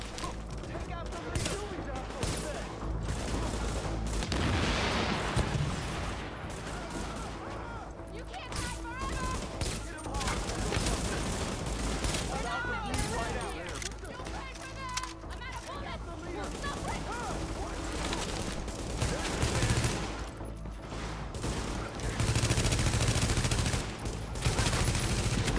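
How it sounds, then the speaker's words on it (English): Gunfire in the video game The Division, dense sustained bursts of automatic fire and shots filling a long, loud combat stretch, with a person talking throughout. "she's trying to shoot me through the freaking Humvee."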